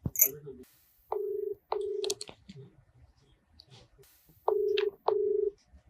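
Phone keypad tones dial a call, four distinct long beeps in two pairs separated by quieter clicks and faint rustling, close and clear against a quiet room.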